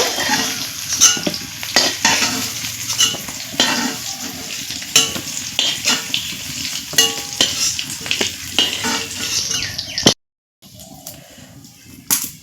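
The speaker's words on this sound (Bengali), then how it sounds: "আলুগুলো একটু লাল করে ভেজে নিয়েছি এখন আমি আলুগুলো কড়া থেকে উঠিয়ে নিচ্ছি" Potatoes fry in oil, sizzling and crackling in a hot karahi while a utensil stirs and scrapes them in repeated strokes, cut by a brief pause near the end.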